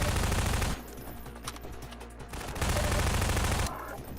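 Rapid bursts of automatic gunfire from players shooting Combine soldiers in the Half-Life map Ambushville, loud continuous volleys with a short lull between them, no talking.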